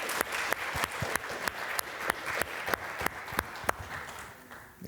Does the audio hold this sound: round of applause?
yes